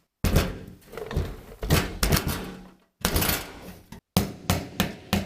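A hammer knocks a fuel pump lock ring around until it is tight on the gas tank of a 1989 K5 Blazer with TBI. The blows are sharp and close, falling in irregular bursts of several hits with brief pauses between.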